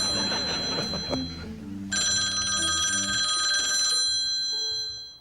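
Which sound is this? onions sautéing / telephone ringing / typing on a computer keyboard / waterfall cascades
telephone ringing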